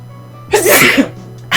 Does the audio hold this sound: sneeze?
yes